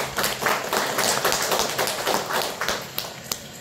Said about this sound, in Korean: 다 같이 박수 한번 치시고